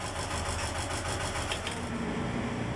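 A lifeboat's engine runs at a steady idle, a continuous mid-pitched mechanical rumble that holds even and close throughout with no voices over it.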